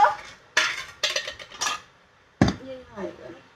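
Dishes, pots and pans clatter and clink while being washed in a home kitchen, several sharp bursts of metal and ceramic knocking, with a brief voice near the end.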